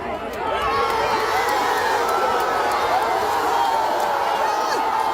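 A rally crowd roars and cheers without a break, a dense wall of voices with scattered whoops rising from within it. The crowd is loud and fills the space throughout.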